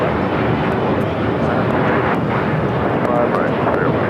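A jet airliner roars steadily down runway 25 Right on takeoff at Los Angeles International Airport, a dense, continuous engine rumble that holds loud throughout, with faint radio chatter underneath.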